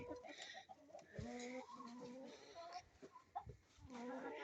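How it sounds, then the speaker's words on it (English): Backyard chickens clucking and murmuring close by, a busy overlapping chatter of short calls and burbles at low volume. "these chickens are funny"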